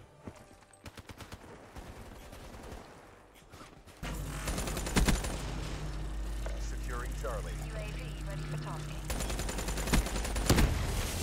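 Video game combat with a grenade blast and rattling gunfire: quieter scattered shots at first, then a sudden loud, dense stretch of continuous firing and explosions, with brief speech mixed in.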